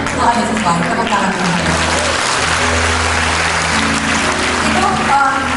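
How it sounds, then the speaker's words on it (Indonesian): Clapping from a congregation at a church gathering, a dense steady patter sustained throughout, with voices and a low tonal hum underneath. "Tepuk tangan."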